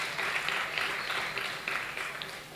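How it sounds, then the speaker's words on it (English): Students and guests at a school debate tournament grand final applaud steadily in a hall, a moderate, even round of clapping that tapers slightly toward the end. "let's put a round of applause"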